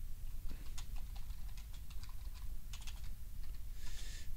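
Fingers tap quickly on a computer keyboard in a quiet room, a close run of faint irregular clicks lasting a few seconds.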